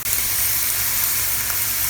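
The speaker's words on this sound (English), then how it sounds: "you want to just mix this all together till the meat is completely cooked and browned." Ground beef mixed with ketchup browning in a pan, giving a loud, steady, close-up sizzle with no breaks and no voices.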